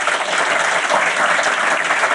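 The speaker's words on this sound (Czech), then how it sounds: "Děkujeme potleskem" An audience applauds steadily and fairly loudly throughout, a dense wash of clapping at a Czech live talk show after the first guest, a tram driver, leaves.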